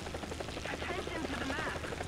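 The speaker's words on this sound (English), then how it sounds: "Control the chopper." A helicopter in the War Thunder video game hovers nearby with a steady rotor whir, heard faintly beneath a voice.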